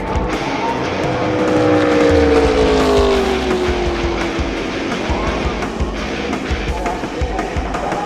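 ARCA Series race cars pile up in a last-lap crash at Daytona. Loud engines roar and sweep past, tires squeal, and harsh scraping impacts carry on throughout, with faint crowd or commentary noise underneath.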